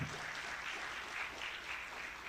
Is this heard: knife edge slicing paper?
no